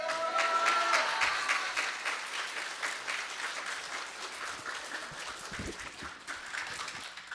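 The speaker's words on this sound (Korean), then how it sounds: "할렐루야 박수 치면서 목사님" Church congregation claps in a sustained, dense burst of applause at a Sunday service, loud and steady with a brief high musical tone near the start, easing slightly toward the end.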